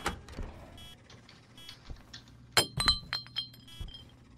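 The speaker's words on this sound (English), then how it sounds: "It's a poltergeist. Yep. Something he's breaking the fucking lights." Lights shattered by a ghost in a ghost-hunting video game: a sharp burst of breaking glass followed by a quick run of tinkling, clinking shards, fairly loud against a low background hum.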